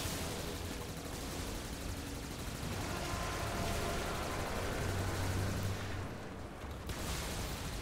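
Rapid gunfire in the video game Warframe, an Orowyrm Steel Path fight in Duviri, as a dense, continuous barrage of shots and impacts with booming low bursts, loud and sustained throughout.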